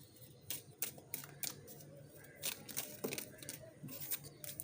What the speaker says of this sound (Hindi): Let's shuffle the tarot cards and find out who is the person you will be marrying